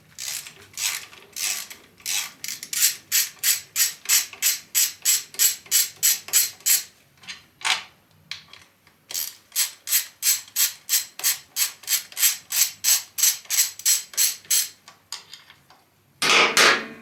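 Swingarm bolts on a Ducati Panigale are loosened with a 6mm Allen key, giving close, steady runs of quick metallic ratcheting clicks broken by short pauses, with a louder clattering burst near the end.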